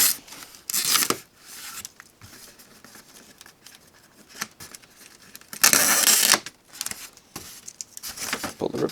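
Ripcords are torn open on the cardboard box of a 1:18 Spark SRT Viper GTS-R model car, giving sharp ripping bursts with quieter rustling and handling noise between them, close up.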